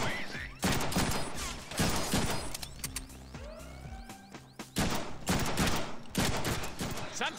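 Gunfire from Deadpool's guns in the Deadpool video game, loud bursts of rapid shots repeating in clusters across the stretch, mixed with mechanical clanks and game effects, no talking.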